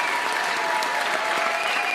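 Audience applause at an event fills the moment with steady, dense clapping from a sizeable crowd, continuous and even in loudness for a couple of seconds with no voices standing out.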